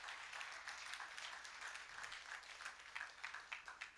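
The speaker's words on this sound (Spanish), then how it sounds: "Dale un aplauso al Señor," A church congregation claps for the Lord during a Spanish-language sermon, a quiet, steady patter of many hands heard from a distance with no talk over it.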